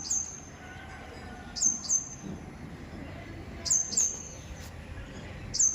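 A small bird chirping outdoors, giving short high chirps in quick pairs that repeat every couple of seconds over a quiet background.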